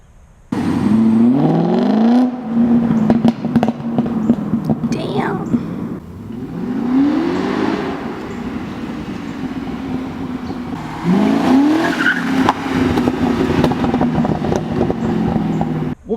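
A BMW M car's V8 engine revs hard at full throttle in repeated rising pulls, a strong near growl that climbs and falls, with faint talk in between.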